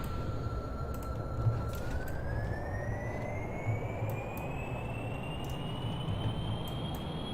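Rocket engines spool up in Kerbal Space Program, a steady roaring rumble with a rising whine that climbs gradually in pitch throughout, loud and unbroken with no talk.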